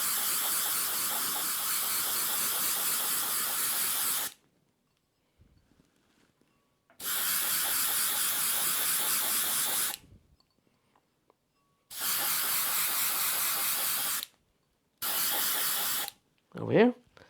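Spray coating applied to glass for laser engraving, three long hissing bursts of several seconds each and a shorter fourth, separated by quiet gaps, close and loud.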